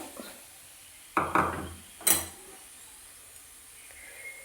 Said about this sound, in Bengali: তো এরপর আখের গুড় দিয়ে এটা নাড়তে থাকবো।